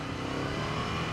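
Ducati Scrambler motorcycle engine revving under a snatchy throttle, a steady, loud, close mechanical drone across the whole short burst with no voices.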